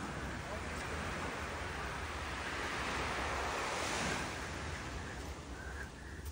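Steady roar of sea waves washing onto a beach at Canyon Cove, Batangas, a dense continuous wash with light wind buffeting, swelling slightly midway, with no voices.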